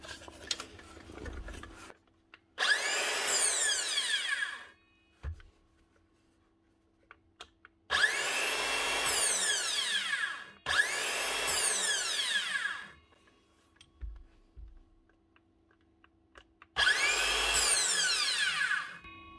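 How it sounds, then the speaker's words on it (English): Makita cordless circular saw spinning up in four loud, separate runs of about two seconds each, with a whining motor and blade that wind down in between, and a few quiet clicks and handling knocks in the gaps. "Now, next up, Makita skill saw. This one's running."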